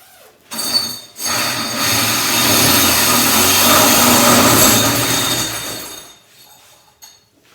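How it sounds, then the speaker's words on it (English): A loud, steady grinding whine of a core drill cutting through porcelain tile runs for several seconds, then stops abruptly, with a couple of clunks at the end. "Now we turn it on to number 2 on this core drill."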